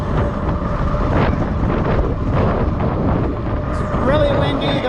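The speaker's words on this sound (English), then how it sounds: "It's really windy. The wind is slightly out of the northwest." Strong northwesterly wind roaring across the microphone while riding an electric fat bike on open road, a loud continuous buffeting rush with a faint whine near the end.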